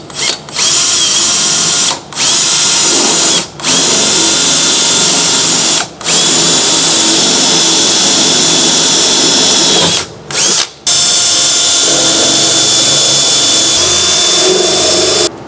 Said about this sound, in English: we're going to use a drill to drill through your truck bed